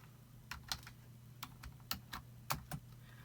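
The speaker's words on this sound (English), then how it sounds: "So we're going to type." Typing on a computer keyboard in short irregular bursts of light clicking keystrokes, quiet and close, with a faint steady hum beneath.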